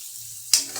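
A sudden loud hiss and sizzle as water hits a hot pan of potatoes in oil, following a quiet low hum, then continuing to crackle.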